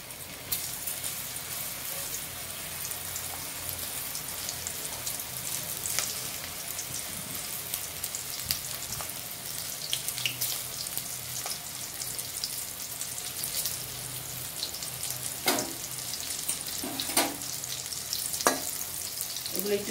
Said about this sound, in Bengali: এবার এগুলোকে আমি ফ্রাই করে নেবো, একটু এই সোয়াবিনগুলো ফ্রাই করে নেবো তেলের মধ্যে